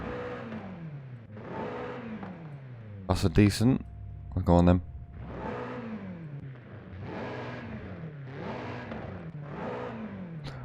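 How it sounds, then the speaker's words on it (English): Stock exhaust of a BMW M8 in Forza Horizon 5, revving repeatedly in rising and falling sweeps, with two short sharper bursts midway and someone talking over it. "I like the sound of the stock BMW exhaust because it is really loud standard."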